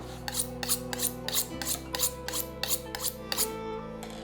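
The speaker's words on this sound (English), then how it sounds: "And now we're gonna clean that fillet up a little bit so it's easier to work with." A knife trims the edges of a fresh-caught albacore tuna fillet from the Oregon coast, making about a dozen quick, rhythmic rasping strokes up close over a steady background hum, with no voices.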